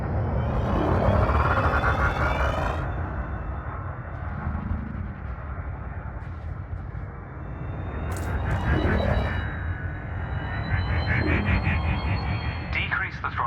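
A spaceship engine in Elite Dangerous throttles up with a heavy, continuous rumble and a whining hum that swells and falls. A voice talks over it in places.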